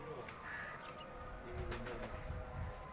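Pigeons on a rooftop loft in Karachi coo softly with occasional wing flutters, faint and close, amid a low background hum and quiet talk.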